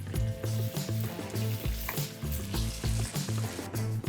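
Tomatoes and eggplant fry in a pan for an eggplant potato curry, giving a steady close sizzle with repeated tonal musical notes playing over it throughout.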